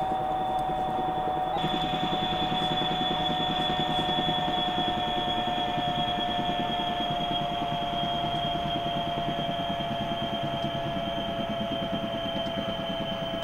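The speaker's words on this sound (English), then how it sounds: "I continue to shut down the engines" Engines of an SA342J Gazelle helicopter winding down in X-Plane 11, a steady whining turbine drone with high tonal lines, one tone stepping down partway as the shutdown continues, heard alone.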